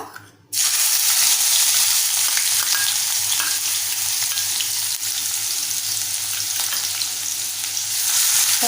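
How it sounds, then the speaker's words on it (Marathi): Finely chopped onion hits hot oil in a pan for spicy prawn rice, breaking into a loud, steady sizzle that holds for several seconds, close and without talk. "इथे आपण एक मोठा आकाराचा कांदा बारीक चिरून घेतला तो घालूया"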